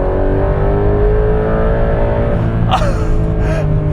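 A Porsche 992.2 911 GTS T-Hybrid with a 3.6-litre boxer engine, set to Sport Plus mode, pulls hard under acceleration as a loud, rising engine drone from inside the car, with short vocal exclamations near the end.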